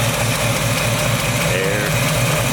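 A small block Chevy V8 idles in a 1977 Toyota FJ40, a steady low rumble with an even pulse that holds throughout at a close, moderate level.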